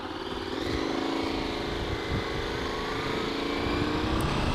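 A KTM Super Adventure S motorcycle engine runs at steady high revs, with a loud, close, continuous droning note that holds level throughout.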